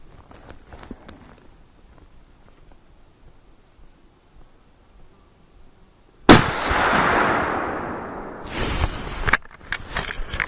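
A Remington American Wilderness bolt-action rifle fires a single loud, sharp shot close by, whose blast trails off into a long decaying echo, followed by bolt and handling clatter. It comes after several seconds of near quiet.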